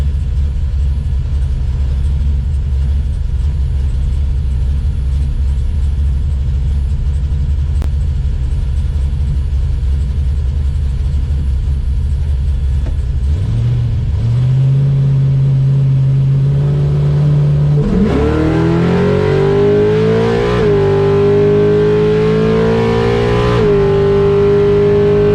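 A nitrous-fed 400 small-block Chevy drag car idles with a deep, loud rumble, then launches and revs hard through rising gear pulls. The engine note climbs and drops at each shift, close and unbroken, with no voices.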